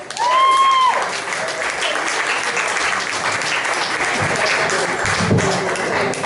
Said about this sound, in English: put your hands together for James Couture